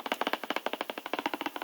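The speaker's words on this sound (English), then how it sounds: "that is the sound of cheap ABS plastic" Quick fingertip taps on the cheap painted ABS plastic casing of an HP ENVY TouchSmart 15t-j000 laptop, about twenty hollow clicks in an even rapid run, close and fairly quiet.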